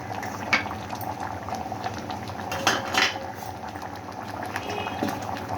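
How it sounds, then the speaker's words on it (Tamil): Ground coconut paste poured into a simmering eggplant, mango and mutton bone curry, with a soft bubbling wash, clinks of a utensil against the pot, and a quiet kitchen hum beneath. "இப்போ வந்து நம்ம அரைச்சி வச்சுருக்கிற தேங்காயை தேங்காய் பேஸ்ட்டு ஊற்றணும்"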